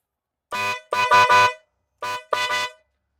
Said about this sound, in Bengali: তারপর আমি আপনাদেরকে বাজিয়ে দেখাচ্ছি যে কি টাইপের হর্নগুলো